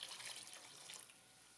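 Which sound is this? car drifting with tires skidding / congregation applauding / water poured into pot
water poured into pot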